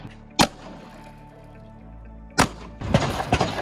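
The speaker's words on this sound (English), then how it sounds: "This is a DP12 bullpup shotgun. We're going to do double-aught buck followed by" A DP12 bullpup shotgun fires at ballistic glass, giving two sharp, loud impacts about two seconds apart over a low background rumble, then a burst of clattering noise at the end.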